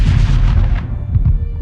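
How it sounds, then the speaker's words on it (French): A loud, deep booming explosion sound effect hits at once and rumbles out, with its low roar fading over about a second and a couple of small trailing pops. "ils virent une explosion de lumière."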